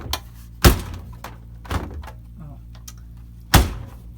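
A few dull clunks and thumps of a Splendide 2100XC washer dryer door being pushed shut without latching, spaced irregularly, with one loud knock early and another near the end.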